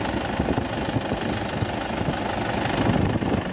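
Toyota Hilux engine running with a faulty alternator pulley, giving a steady loud mechanical rattle and whine with a constant high-pitched tone throughout, close by and continuous.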